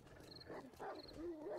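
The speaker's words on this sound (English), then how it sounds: "That is a wolf." A wolf in the survival game 7 Days to Die lets out a rising, wavering howl, with a couple of sustained tonal cries in quick succession, moderately close over faint background noise.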